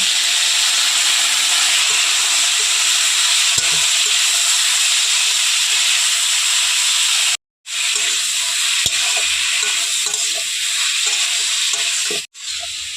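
Raw green tomatoes coated in spices fry in hot oil, giving a loud, continuous close-up sizzle with faint stirring scrapes and two brief cut-outs, with no voices.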